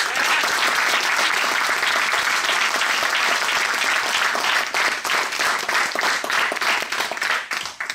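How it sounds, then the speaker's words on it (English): Hackathon final audience giving a sustained round of applause, a loud, dense wash of many hands clapping throughout that thins slightly into more distinct claps near the end. "They really deserve a great applause."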